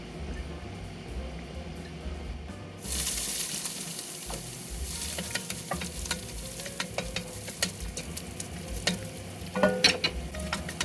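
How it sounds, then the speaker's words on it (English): Breadcrumbs fry in oil in a Dutch oven. Quiet at first, then a steady close sizzle begins, with scattered crackles and spoon scrapes throughout. "we're gonna add the breadcrumbs, cook until golden, should take about 2 to 3 minutes"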